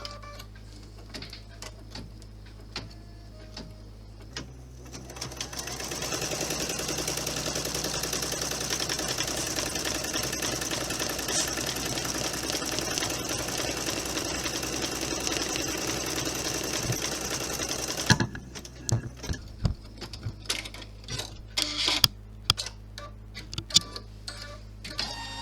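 A sewing machine runs steadily for about thirteen seconds, stitching a line on a wallet. The rapid, even whir starts abruptly and stops abruptly, with scattered clicks and handling taps before and after.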